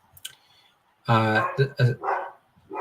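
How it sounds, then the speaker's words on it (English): A dog barks in the background of a chat livestream, giving a quick cluster of loud, close, harmonic barks and yips that briefly cut through the room. "dog's going off."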